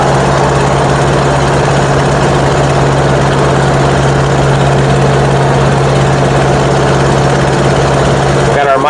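A car engine chugs steadily on a foggy mountain road, a loud, continuous low drone with constant vibration throughout and no clear speech.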